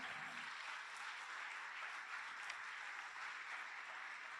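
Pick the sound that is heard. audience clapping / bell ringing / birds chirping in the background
audience clapping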